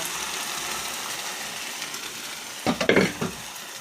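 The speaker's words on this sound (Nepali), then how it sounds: "प्याज मिलायो भने त्यसपछि हामीले अब यो झ्याम्मै दाल हाल्नु पर्छ।" Onions fry in a pan with a steady hiss, then lentils go in near the end with a short burst of louder clatter and splashing sizzle.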